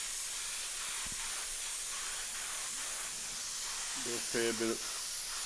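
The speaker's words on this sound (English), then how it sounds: "After this, I think I'll come back with the airbrush now" An airbrush sprays paint on a Rat Fink-themed 1969 Camaro, producing a constant, close, breathy hiss throughout, with a brief spoken phrase near the end.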